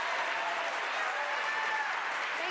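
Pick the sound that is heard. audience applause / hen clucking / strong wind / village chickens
audience applause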